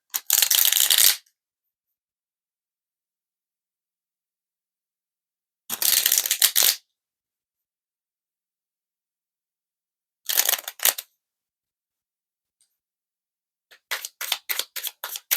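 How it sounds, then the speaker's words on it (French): Tarot cards are shuffled in four separate bursts of riffling, each about a second long, with silence between them. The last burst breaks into quick repeated flicks. "j'aime bien mélanger les cartes"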